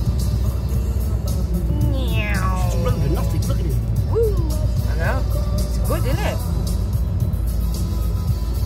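A cat meows several times, rising and falling cries heard over the steady rumble of a car driving a rural road, with a voice speaking nearby.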